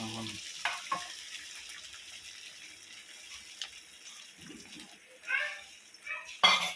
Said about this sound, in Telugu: ఇప్పుడు మనం ముందుగా ఎగ్ బీట్ చేసి పెట్టుకున్నాం ఇది యాడ్ చేసేద్దాం